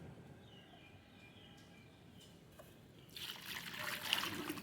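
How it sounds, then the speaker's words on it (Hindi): Water poured from a container onto freshly set soil in a tuberose flower pot: a faint, quiet background that turns into a brighter splashing trickle over the last second and a half. "अब जो है हम इसमें पानी डालेंगे।"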